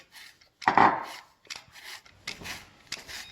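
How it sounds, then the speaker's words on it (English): A lemon being zested produces short scraping, rasping strokes in an uneven rhythm, close and fairly quiet, separated by brief silences. "Get some lemon zest to add"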